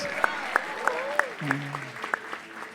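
Clapping in a steady rhythm rises from a church congregation honouring its pastors, regular beats under a sustained voice and music.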